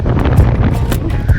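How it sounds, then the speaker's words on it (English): Strong wind buffets the microphone outdoors during a fishing trip, a steady loud low rumble with gusty bursts throughout the short clip. "It is rocking windy out here today."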